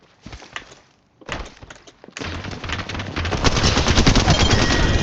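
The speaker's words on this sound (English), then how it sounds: "I'm under fire." Gunfire in the video game Apex Legends: scattered shots and thumps at first, then a dense, loud stretch of rapid automatic fire building toward the end, with no talking.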